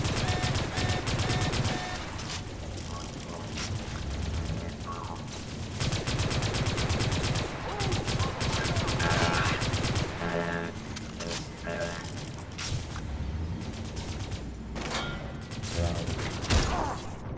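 Dense, continuous automatic gunfire and rapid bursts in the retro sci-fi shooter Far Cry 3 Blood Dragon, loud and relentless throughout a chaotic firefight with mechanical clatter.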